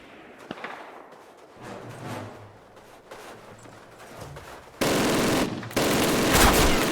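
Call of Duty machine-gun fire from an MG gunner, with scattered shots and thumps early, then two loud sustained bursts of rapid fire near the end.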